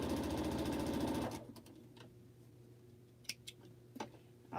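A sewing machine runs fast and close while stitching quilt blocks for a swap, then stops abruptly and leaves a few faint clicks and handling taps in the quiet.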